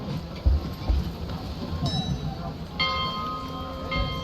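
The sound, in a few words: bell rung to call the ferryman, from a video game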